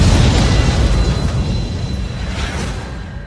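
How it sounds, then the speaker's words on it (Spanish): A loud, deep explosion rumbles heavily, then slowly fades out over a few seconds. "Una explosión sacudió a la ciudad hoy."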